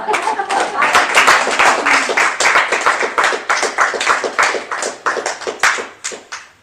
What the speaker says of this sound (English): Let us give Ruth a big applause.